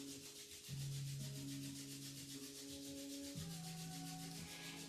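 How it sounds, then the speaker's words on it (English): Palms rub together in a quiet, steady back-and-forth swish, close by, with soft sustained tones in the background. "rub your palms together in front of your heart"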